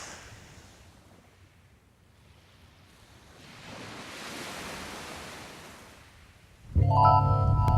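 Waves break on a Mediterranean beach during surf-casting, a broad hissing roar that swells to a peak and ebbs. A sudden loud tonal burst cuts in at the end.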